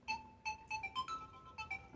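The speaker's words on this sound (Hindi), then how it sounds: "अब किसका फ़ोन आ गया?" A mobile phone ringtone plays in a home, a repeating melodic pattern of short bright notes, fairly quiet and steady, with no voices over it.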